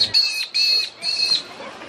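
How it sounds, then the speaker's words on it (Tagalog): A bird at a zoo lets out three loud, shrill squawks in quick succession, close by, with faint crowd murmur in the background. "Ang ingay naman ng ibon na yan."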